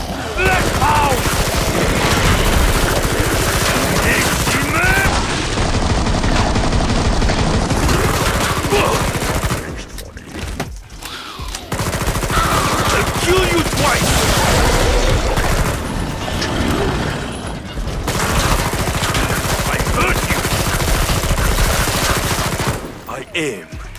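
Relentless close-range automatic gunfire in Killing Floor 2, with loud sustained bursts and booms that break off briefly twice before resuming.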